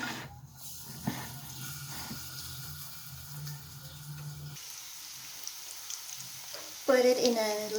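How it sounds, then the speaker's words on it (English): A low, steady sizzle of cauliflower fritters frying slowly in a little oil in a non-stick pan over low heat, with soft clatter partway through and a brief louder crackle near the end. "So prepare a non-stick pan for frying, but I put a little bit of oil."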